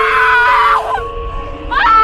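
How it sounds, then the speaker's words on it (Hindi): A girl in a Hindi horror story lets out a loud, shrill, sustained scream close up, then a shorter second cry after a brief pause. "अचानक जंगल से बाहर निकलते ही लड़की जोर से चिल्लाई"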